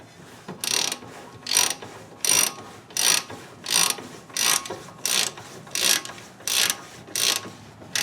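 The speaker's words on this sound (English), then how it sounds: "we'll just go ahead and tighten it up," A torque wrench ratchets on a suspension nut of a 2007 Honda Accord, about a dozen evenly spaced clicking bursts roughly every half second, close and crisp with no talk.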